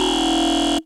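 A raw FM synth bass patch from the Propellerhead PX7 in Reason holds one steady, buzzy, harsh tone for under a second before stopping abruptly, loud and alone.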